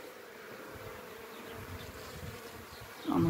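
Honeybees buzz steadily around a swarm trap set up outdoors by a beekeeper, a dense continuous hum of many insects close by, with a brief louder rustle at the end.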